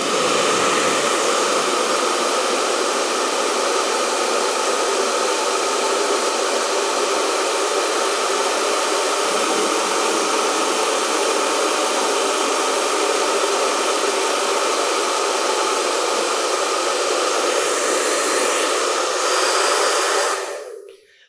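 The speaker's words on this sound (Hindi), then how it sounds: "हमारे पास एक ड्रायर है और साथ में एक पिंग पोंग का बॉल है" Hair dryer blows a steady, loud rush of air upward, holding a ping pong ball levitating in the stream; the even hiss runs unbroken for about twenty seconds before cutting off abruptly.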